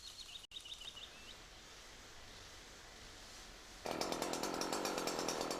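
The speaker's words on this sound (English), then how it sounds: "work the bar until the tree starts to fall" A chainsaw cutting a tree trunk during felling, a distant, muffled steady engine drone that suddenly jumps louder and buzzier partway through, with a bird chirping early on.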